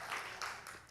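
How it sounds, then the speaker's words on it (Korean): A church congregation applauds during a Korean service, a brief, moderately faint patter of many hands clapping together. "그럼 박수 한번 쳐주십시오"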